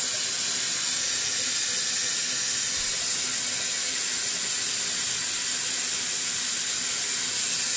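Water runs through the pigtail of a steam boiler in a flushing stream, making a steady, even hiss that holds for several seconds with no talking.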